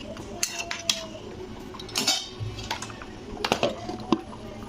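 A lid goes onto a cooking pot of vegetable curry with fried lentil dumplings, giving a few short metallic clinks and clatters, close and fairly loud, scattered over a few seconds with no talking.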